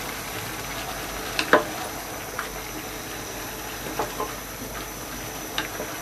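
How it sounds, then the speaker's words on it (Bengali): Chopped mixed vegetables with yardlong beans frying in a pan, a steady close sizzle and bubbling hiss with a few soft stirring knocks and scrapes scattered through. "সবজিগুলো একটু নেড়ে দিব।"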